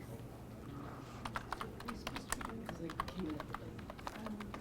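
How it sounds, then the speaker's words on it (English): Clicking computer keyboard keys in a quiet room during a version-control session, light irregular taps in short bursts, with people talking nearby. "Stop typing."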